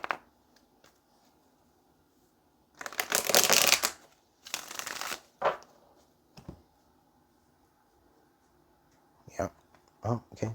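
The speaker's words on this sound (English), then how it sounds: "Let's go ahead and get one more shuffle and then pull tarot." Tarot cards are shuffled in a few short riffling bursts with quiet gaps between, fairly close, with soft handling noises and a brief snap near the end.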